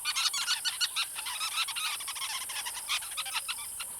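Sociable weavers chirp continuously from a large communal colony nest in southern Africa, a dense, busy chatter of many small birds calling at once, steady and fairly close with no talk.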